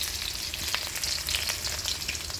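Chopped onion and a green chili fry in a small amount of hot oil. The sizzle is close, bright and crackling, and it stays steady and even throughout with no voices.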